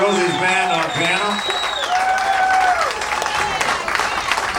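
An audience claps and cheers for a piano player from a reunion jazz band while an announcer talks over the applause.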